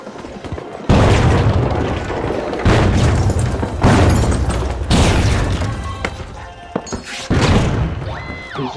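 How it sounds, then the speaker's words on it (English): Grenade blasts tearing through a wall in the video game The Finals, several loud booming explosions with crashing debris in quick succession, close and heavy, with faint voices underneath. "Just trying to destroy the wall with a grenade."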